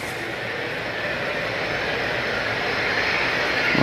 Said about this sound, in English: we've got a lovely little Embraer Phenom that's just coming up on the left.